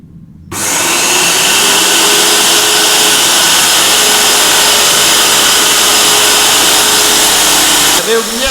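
An airless paint sprayer starts up abruptly while purging at maximum pressure, a loud, close, continuous high-pitched mechanical whine that runs steadily for several seconds before cutting off.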